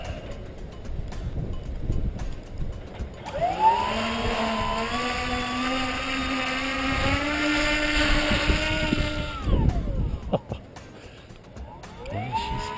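An RC airboat running on water, its small propeller engine rising into a strong, steady harmonic whine that holds for several seconds and then falls away, with wind noise and a brief voice around it.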